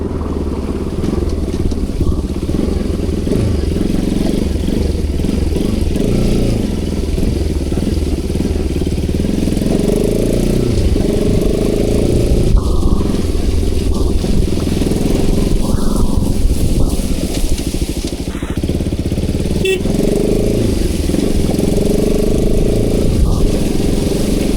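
A Bajaj Pulsar RS200 motorcycle idling nearby, a steady low engine rumble holding even throughout with faint outdoor background sounds.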